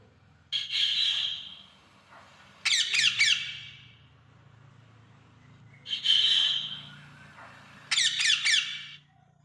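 Harsh parrot squawks come in pairs: a raspy screech followed by a choppy, stuttering squawk, repeated twice with quiet gaps between.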